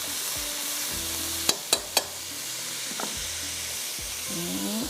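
Beef noodle ingredients fry in a pan with a continuous sizzle, broken by three quick metallic knocks and a softer one later, while a low hum runs underneath.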